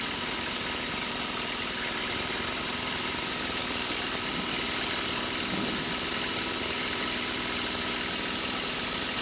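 A Lancair light aircraft engine droning steadily in flight, a constant loud hum with a fixed tone and no breaks, no voices.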